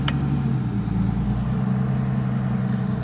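A bus engine holds a steady, fast idle with a constant low drone and even rumble, close and unbroken, with no one speaking.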